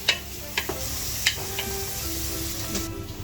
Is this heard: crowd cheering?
no